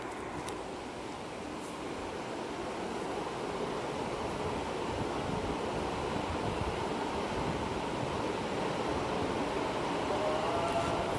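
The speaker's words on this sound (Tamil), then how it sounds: "காற்று நல்ல குளிர்ந்த காற்று அடிச்சுக்கிட்டு இருக்குது" Cold wind blows in a steady, unbroken roar, a broad rushing noise that holds at the same level throughout without any voices.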